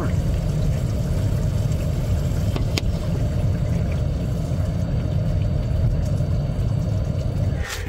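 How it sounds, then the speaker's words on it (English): A steady, continuous rush of water draining out of a Toyota Highlander roof drain, loud and close, with a low rumbling wash and a couple of brief knocks partway through. "Water from the roof properly draining out of the vehicle"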